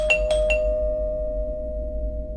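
A doorbell rings twice at night: a chime-like electronic tone sounds in quick repeated strikes, then one note rings out and sustains steadily against quiet room hum.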